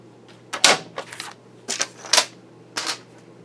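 Scissors or a paper trimmer cut half an inch off a sheet of stamped background paper for a park-themed layout, giving several short, crisp snips in separate bursts with brief pauses, close and fairly loud against a quiet room.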